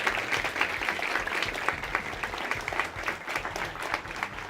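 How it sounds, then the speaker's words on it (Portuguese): An audience at a Black Consciousness debate on racial quotas applauds steadily, dense clapping filling the room at a fairly even level throughout with no voices on top. "Uma salva de palmas para vocês, gente."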